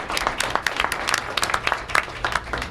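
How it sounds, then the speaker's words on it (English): Audience applause at a New York University education and social policy event, steady scattered clapping from a room of people lasting a few seconds at moderate level. "Give her a round of applause"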